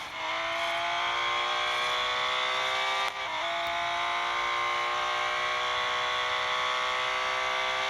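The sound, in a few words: Porsche 911 RSR engine noise in a racing video game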